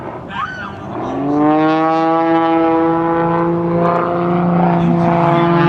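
An aerobatic airplane's engine performs at an air show, a loud continuous buzzing drone whose pitch sweeps early and then holds steady, heard alone without voices.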